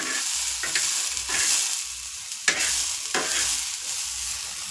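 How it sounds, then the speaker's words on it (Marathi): Peanuts dry-roasting in a pan, a dry rattling hiss with repeated stirring scrapes in an uneven rhythm and one sharper knock, close and fairly loud, no one speaking. "मस्त दाणे मी हे असे छान खरपूस भाजून घ्यायचे"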